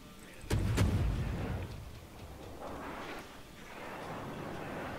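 Naval guns fire in the World of Warships video game, with a pair of sharp booming shots early on followed by rumbling echoes and steady engine and water noise.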